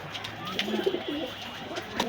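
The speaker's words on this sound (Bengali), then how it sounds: "এই এক জোড়া তুলো কবুতর আছে, খুব ছটপট কবুতর" Several pigeons coo steadily in a shop, their low, throaty rolling calls overlapping close by over a constant background hum, with occasional light clicks and rustles.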